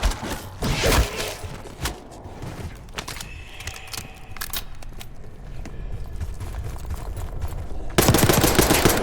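Gunfire in the video game Call of Duty Black Ops 6 bursts in sharp rapid volleys at the start and again at the end, with quieter stretches between them.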